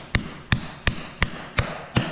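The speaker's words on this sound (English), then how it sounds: "you're able to pound holes through rubber, and without using a drill bit" Six sharp, evenly spaced impacts about a third of a second apart as a hole punch is hammered through a rubber mud flap resting on a wood block, each a loud close knock with a short ringing tail.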